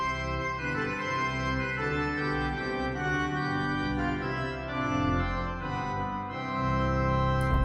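A Rieger pipe organ plays a sustained melody on a cornet solo stop on one manual over softer held accompaniment chords on another, steady and moderately loud.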